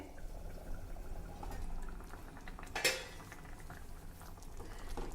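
A sesame coconut relish simmers in a pan with a soft, continuous bubbling, punctuated by faint utensil clinks and one sharper metallic knock partway through.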